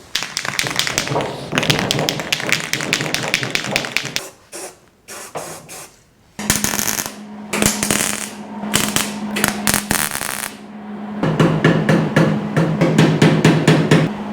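Tack welding a rust repair patch onto a 1953 GMC truck cab, with crackling, sputtering bursts of welding arc in several runs separated by short pauses, loud and close.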